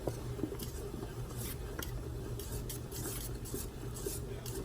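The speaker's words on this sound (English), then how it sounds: "Continuously stir, because it will burn on the bottom." Thickening apple pie filling stirred in a pot for canning, a steady soft scraping and sloshing of a spoon against the pot that repeats in a loose rhythm, fairly quiet and close, with no talking.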